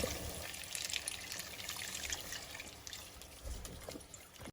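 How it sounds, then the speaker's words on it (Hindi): Milk pours into roasted semolina in a pan, a faint steady trickle running for several seconds at close range before a short sharp knock at the end, with no voices. "और फिर उसमें डाल देना है दूध।"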